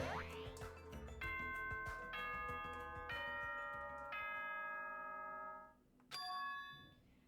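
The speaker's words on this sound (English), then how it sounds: "Was that a school bell just now?" A school bell chimes in the video game Danganronpa 2: Goodbye Despair, ringing a series of clear, sustained tones in a stepped melody, with a short pause before a final chime.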